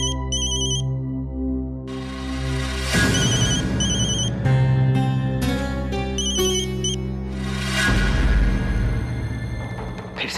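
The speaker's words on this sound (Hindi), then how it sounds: "फिर से सतीश का फोन" A telephone ringtone plays continuously in a domestic drama scene, its repeating electronic melody loud and steady with layered tones over a sustained musical backdrop, with no talking.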